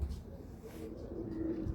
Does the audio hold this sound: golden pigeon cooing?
yes